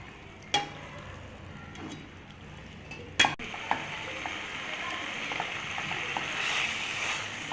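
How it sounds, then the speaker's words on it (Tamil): Crab masala sautéing with crushed red chillies, a quiet sizzle under a few sharp clinks and taps of a spoon against the pan, with the frying growing slightly louder toward the end. "நல்லா சேர்த்து நல்லா வதக்கிக்கோங்க."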